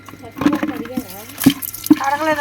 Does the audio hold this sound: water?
yes